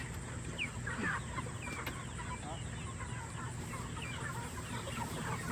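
Chickens being herded on a farm cluck and squawk in scattered, faint bursts against steady outdoor background noise, with no clear talk over them.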